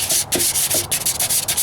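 Rhythmic back-and-forth sanding strokes rub over Bondo body filler on a Ford Ranger's passenger rocker panel during repair, loud and close, with steady scratchy passes and no voices.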